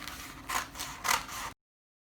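Scissors snip through a paper sewing pattern for a dress, two crisp cutting strokes close by over a faint background, ending abruptly.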